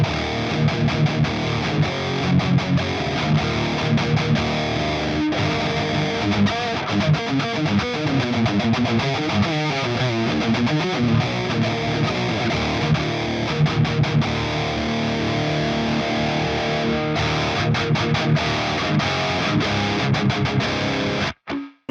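A heavily distorted electric guitar plays through an Airis Effects Nebula Advanced Overdrive pedal, thick and buzzing with strong low end, sustained chords ringing for about twenty seconds before cutting off.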